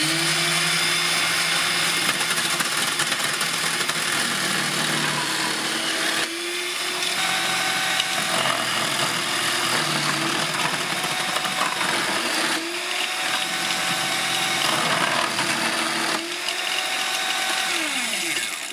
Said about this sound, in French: Je vais faire des carottes râpées, j'ai mis le disque à râper.